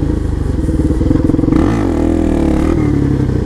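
A supermoto motorcycle holds a wheelie, its engine loud and close, droning steadily and then revving up and easing back as the rider slips the clutch and taps the rear brake to drop the front wheel.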